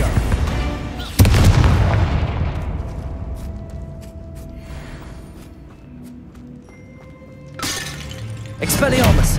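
Confringo blasting spell explodes in Hogwarts Legacy with a sudden loud boom and crackling debris, fading into rumble before two more bursts near the end, with a voice talking over the action.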